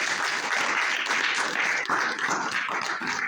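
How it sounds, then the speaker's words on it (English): An audience at the Winnipeg Real to Reel Film Festival awards ceremony claps in a dense, even burst of applause for about three seconds. "Give them a big round of applause."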